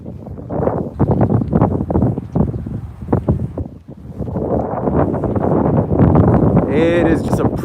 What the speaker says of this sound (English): It is just a pretty steady wind coming off of the lake there.